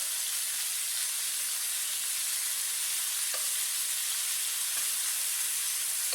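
Shrimp sizzle hard in a skillet just after flipping, a dense, steady, loud hiss of frying close up, with no voices and only faint clicks.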